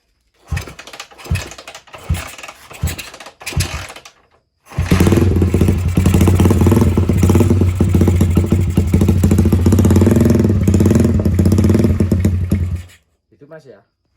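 A Honda GL series motorcycle, just rewired, cranks with a few choppy starter bursts, then catches and runs at a loud, steady idle for about eight seconds before shutting off, with someone speaking briefly.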